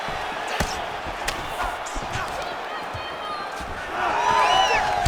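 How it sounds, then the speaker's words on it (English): A video game arena crowd from EA Sports UFC 5 roars and cheers steadily through the clip, surging louder near the end as the fighters get back to their feet, with thuds and bright tonal effects over the crowd. "big pop from the crowd as they get back to their feet"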